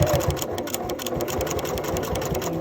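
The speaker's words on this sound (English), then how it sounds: "Lower your presser foot and then stitch to the point" A sewing machine stitches a denim jeans pocket while turning a pair of jeans into a double-pocket purse, its motor whirring steadily and close for the whole stretch with a fast, even needle rhythm and no talk.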